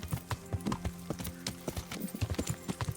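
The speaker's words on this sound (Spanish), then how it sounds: "Vamos, caballo, más a prisa." Horse hooves gallop in a steady, repeating clip-clop rhythm through Kingdom Come: Deliverance, close and fairly loud over faint background game ambience, with no talking.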